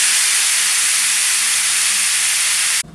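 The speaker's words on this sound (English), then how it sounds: "I'm going to throw it in the pan and cook it" Ground beef seasoned with black pepper and pink salt cooking in a pan, a loud steady hissing sizzle that runs unbroken and close before cutting off abruptly near the end.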